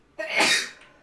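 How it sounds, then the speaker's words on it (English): A single sneeze, close and fairly loud, bursts out abruptly and fades within a second, with no talk around it. "Don't sneeze while fishing"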